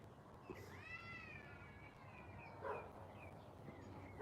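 Feral cats mating outdoors give out drawn-out, wavering yowls and caterwauls, one long rising-and-falling cry followed by shorter howls, heard at moderate distance over a low background hum.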